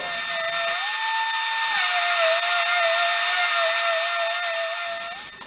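A power sander runs steadily on wood in a kitchen corner, a close continuous high whine whose pitch dips and shifts slightly as pressure changes before it winds down.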